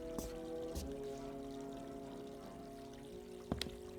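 Water runs from a tap in a diner kitchen in a radio drama, a soft steady pouring stream under a low hum, with a few faint clinks and knocks along the way.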